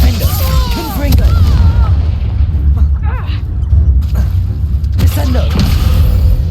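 A Confringo blasting spell going off in Hogwarts Legacy, heavy booming explosions and thuds over a dense rumbling game soundscape, with voices talking throughout.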